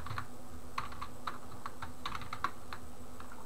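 Light typing on a computer keyboard in the VS Code editor during web development, with sparse, close individual key taps spread irregularly over a faint steady hum.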